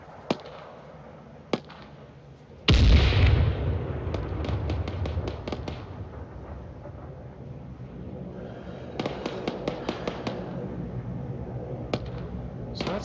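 A bomb explosion in the military game Arma 3, a sudden loud blast followed by a long rumbling decay, with scattered sharp cracks of distant gunfire before and after.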